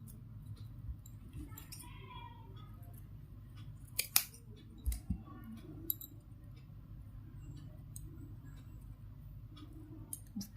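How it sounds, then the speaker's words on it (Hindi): Scissors cut fabric for a small doll dress, giving sparse, faint snips and clicks against a quiet, low room hum, with a few sharper cuts near the middle. "यहाँ से मैं चोली को इसमें बीचा बीच में से इसे इस तरह से काट लूँगी"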